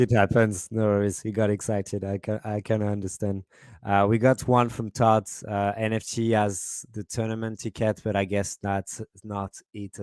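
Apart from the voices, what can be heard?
No everyday noises stand out.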